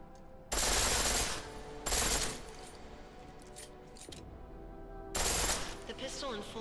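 Pistol set to full auto in Deus Ex: Mankind Divided, fired in three loud rapid bursts, each about a second long, with quieter game ambience and a faint voice between them.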